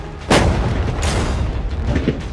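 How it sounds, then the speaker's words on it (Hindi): Gunshots are fired at a container holding money: a sharp, loud blast, a second shot about a second later and a fainter third near the end, echoing in open air. "पहले बाकी शॉट्स फायर कर लेते हैं"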